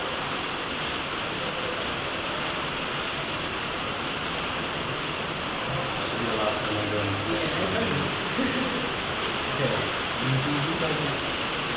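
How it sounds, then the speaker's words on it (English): Heavy rain falls outdoors in Britain as a dense, steady hiss that fills the whole stretch, with faint voices talking beneath it. "So the rain is really coming down."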